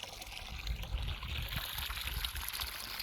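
Water trickling and pouring from watering cans in a village garden in spring, a soft continuous stream with a low splashing rumble, heard alone without talk.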